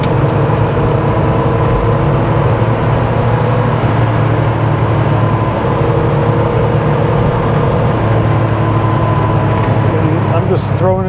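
A 1988 Porsche 911 Targa with a freshly breaking-in engine is driven hard through corners, its loud engine drone rising and falling steadily from inside the car, close and continuous throughout.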